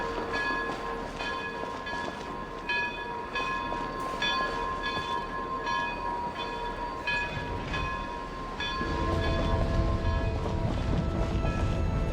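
A train in the video game Genshin Impact rumbles past with steady clatter and a sustained horn-like tone, growing louder and heavier toward the end.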